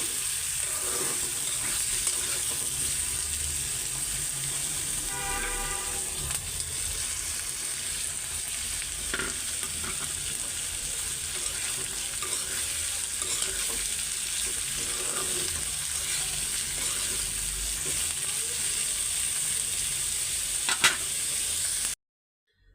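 Sliced bitter gourd (karela) frying with onions in a pan, giving a steady, continuous sizzle and crackle for about twenty seconds, with a few faint clinks in the background.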